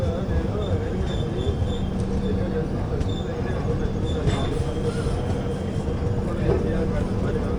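The Janmabhoomi Express, a passenger train, rolls into Nalgonda station, heard from on board as a steady, loud rumble of wheels with faint squeals.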